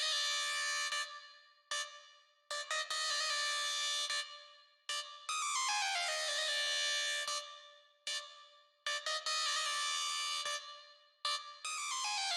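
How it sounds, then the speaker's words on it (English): Steps synth lead from the Blast Bank, with a Valhalla Vintage Verb on it, playing a repetitive pattern of bright, buzzy, horn-like stabs in short bursts with clean breaks between them, fairly quiet and alone. "I had this lead which is called Steps. It's from the Blast Bank again"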